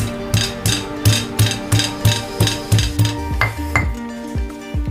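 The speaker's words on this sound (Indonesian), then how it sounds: "Ini untuk serehnya cukup digeprek aja ya." Lemongrass stalks being smashed for a snail dish, about a dozen sharp, even pounding blows in a steady rhythm, close and loud, slowing and tapering off near the end.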